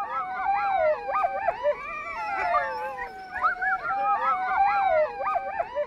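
Arctic sled dogs howling together in a steady, overlapping chorus of long wavering howls, close and loud, with a few whimpers and yips mixed in and no talking.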